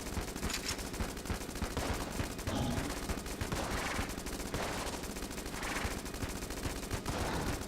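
Rapid continuous gunfire from the Heck Blaster in the Enter the Gungeon video game, a dense stream of shots running steadily through the whole stretch with layered game effects and no talk.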